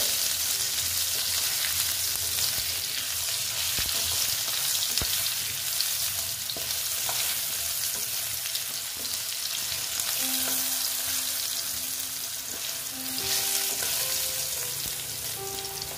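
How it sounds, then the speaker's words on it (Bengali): Steady crackling sizzle of potatoes frying in oil, continuous and close, with faint kitchen clinks and a brief tonal hum partway through. "একটু ভেজে নিতে হবে ভালো মতন"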